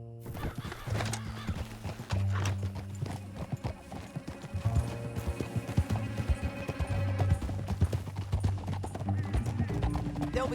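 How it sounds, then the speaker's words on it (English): Hooves clatter in a quick galloping rhythm with a horse whinnying, set against a low musical drone, from the video game Red Dead Redemption 2. "Back on your horse, let's get after them."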